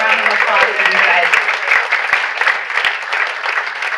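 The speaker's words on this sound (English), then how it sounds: "So a big round of applause for you guys." A dinner audience at a chamber of commerce appreciation event applauds a tricentennial committee, continuous close clapping mixed with cheering voices and crowd chatter throughout.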